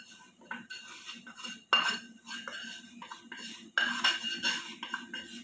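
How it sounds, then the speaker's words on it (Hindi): Roux going into a pan while making brown sauce, with scattered metallic clinks and scrapes of utensils against cookware, close and fairly quiet. "आपका जो भी रू है, हम उसको इस पैन में डालेंगे."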